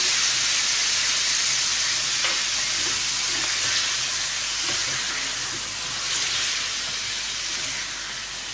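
Chicken Chugtai karahi fries in a pan with a steady, close, loud sizzle and hiss, broken by faint scrapes of stirring, and no voices.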